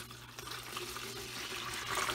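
Warm water from a glass pours in a steady, soft trickle onto flour for artisan bread dough, fairly faint and continuous, gently rising toward the end.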